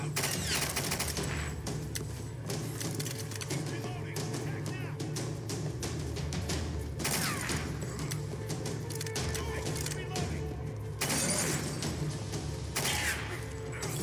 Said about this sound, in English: she's got a machine gun